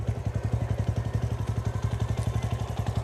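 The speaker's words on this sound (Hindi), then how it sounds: "ये थी हमारी TVS रेडियन की आवाज़" A TVS Radeon BS6 motorcycle idles close by, its exhaust thumping in a steady, rapid low putter with light mechanical clatter, running evenly without any talk.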